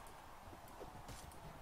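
Horse hooves in Mount and Blade: Warband, a quiet uneven clip-clop of several hoofbeats on the ground, faint and distant beneath the game's background noise.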